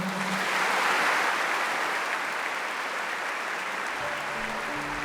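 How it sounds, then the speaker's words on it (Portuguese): A church congregation at Mass applauds the Gospel reading with steady, even clapping that fills the room throughout, and a few faint sustained tones rise near the end. "Vamos aplaudir a palavra"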